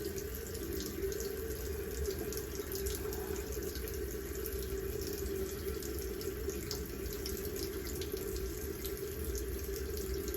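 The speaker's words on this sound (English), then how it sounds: "So I dip it in the water." Running water pours steadily into a bathroom sink, a continuous close splash and trickle with no speech as a face brush is dipped in.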